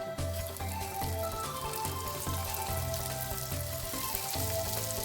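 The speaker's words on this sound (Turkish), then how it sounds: "Kızdırdıktan sonra yağımızı üzerinde pişilerimizi arkalı önlü kızartıyoruz." Steady, dense sizzling of unyeasted dough flatbreads frying in hot oil on both sides, close and continuous, with faint clinks and stirring underneath.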